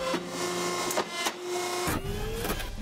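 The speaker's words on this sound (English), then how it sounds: "It's the sound of a hydraulic paper cutter." A loud mechanical hum with a rising whine from a hydraulic paper cutter runs throughout, punctuated by a few sharp thumps and clunks of heavy machinery cycling up close.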